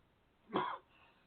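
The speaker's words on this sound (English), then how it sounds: "don't mean to cough in everybody's ears here" A single short cough, close and fairly loud, against quiet background hiss.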